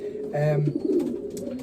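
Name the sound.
racing pigeons cooing in loft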